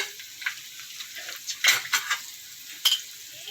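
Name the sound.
ginger being added to hot oil and frying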